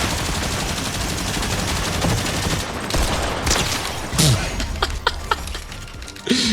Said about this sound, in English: Minigun time.